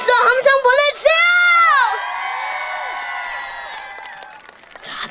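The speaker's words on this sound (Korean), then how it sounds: "그렇다면 박수 함성 보내주세요!" An outdoor concert crowd at a city marathon event cheers and shouts in high excited voices, with clapping, then the cheers trail off into quieter scattered noise.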